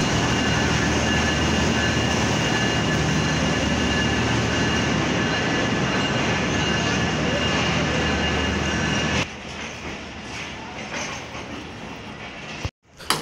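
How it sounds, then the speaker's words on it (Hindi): Jaffar Express coaches being shunted at a Pakistan Railway station make a loud, steady rumble with wheel noise that cuts off suddenly, leaving quieter station clatter and brief knocks. "जाफर एक्सप्रेस की शंटी का अमल जारी है"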